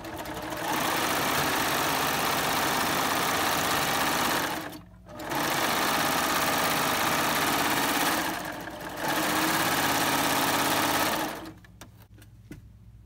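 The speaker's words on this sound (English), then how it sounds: "Now that that inseam is serged" A serger runs along the inseam of a pair of shorts in three long, steady bursts of loud, close mechanical whirring, with brief pauses between runs and a few clicks at the end.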